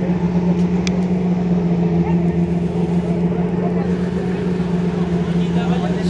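A 1234 HP Toyota Supra engine drones steadily at a constant low pitch, loud and sustained without obvious revving.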